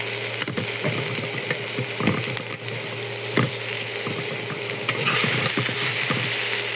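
Steady oily sizzle of flat beans and potatoes frying in a pan, with occasional scrapes and stirring knocks, close and continuous throughout.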